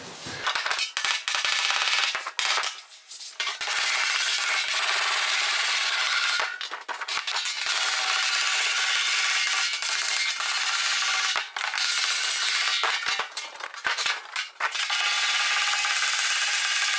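Sheet metal on the front body of a 1974 AWD Dodge Charger is rolled and trimmed along a flange, making a loud, continuous metallic rasping and grinding that stops briefly a few times before resuming.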